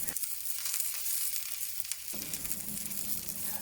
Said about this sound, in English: It is important to sear the surface at high heat to create a nice brown surface.